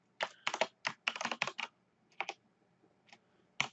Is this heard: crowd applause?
no